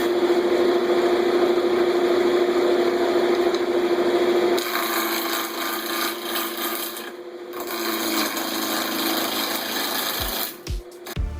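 A wood lathe roughs a turning blank into a cylinder, a loud continuous rasping scrape over a steady motor tone that shifts in pitch partway through, with brief cuts and knocks near the end.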